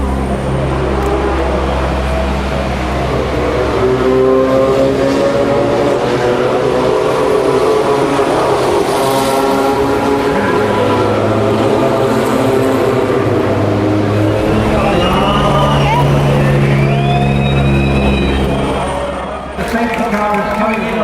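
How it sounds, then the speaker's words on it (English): Race cars pass in a tight pack behind the safety car, a dense, continuous roar of engines sweeping past at close range for a long stretch, with a crowd and other background noise mixed underneath. "here comes the field again, but they're still behind the safety car"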